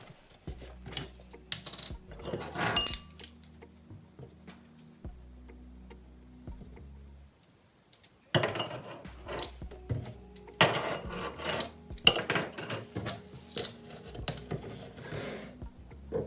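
A spoon stirs ground coffee into oil in a small dish, giving light clicking and scraping taps in irregular bursts, close and quiet, with pauses between rounds of mixing.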